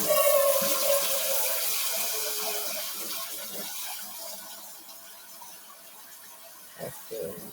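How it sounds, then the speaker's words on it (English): Tap water runs and splashes into a cooking pot being filled for ramen, loud and close at first, then gradually quieter, ending with a couple of clunks. "So in the pot, you're gonna add water."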